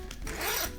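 A zipper on a handmade bike frame bag is pulled open in one quick, close rasping stroke lasting under a second.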